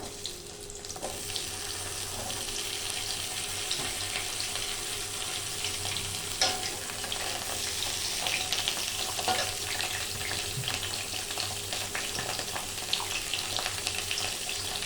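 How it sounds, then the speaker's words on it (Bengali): Pointed gourd (potol) fries in hot oil in a pan, a steady, even sizzle that carries on throughout with a few faint clinks and no talking. "তেল গরম হলে আমি পটলগুলোকে ভেজে নেব।"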